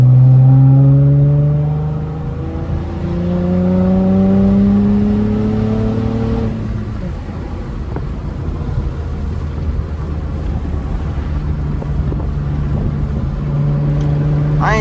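A modified 300+ horsepower 8th-generation Honda Accord engine revs up in rising pulls, then drops back with a few faint pops, then settles into a steady idle hum close by.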